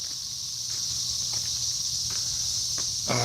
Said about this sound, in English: There you are, cicadas.